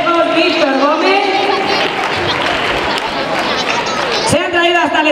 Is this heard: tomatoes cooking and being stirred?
no